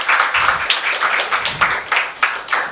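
A school classroom of students clapping their hands together, a busy patter of many overlapping claps that stays loud and close for a few seconds.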